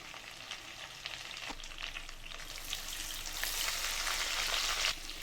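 Cumin seeds and curry leaves frying in melted butter and oil for a restaurant-style palak paneer curry, a steady close sizzle that swells louder toward the end, with a few light stirring clicks.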